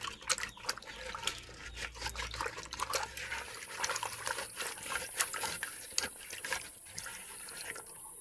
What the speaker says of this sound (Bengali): এবার আমি এই মালসার মধ্যে এই কাঁঠালের বীজগুলোকে ভালো করে খুব ঘষে নেব।